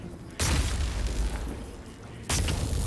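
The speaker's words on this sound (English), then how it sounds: "Artillery." Two heavy artillery blasts in Baldur's Gate 3, each a sudden loud boom with a deep rumbling tail, the second landing about two seconds after the first, with no talking.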